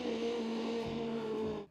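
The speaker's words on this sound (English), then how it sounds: "They put in speakers so you can hear the car's sound." A race car's R26B engine sound plays through speakers as a steady, moderately loud droning roar with a sustained tone, ending abruptly after under two seconds.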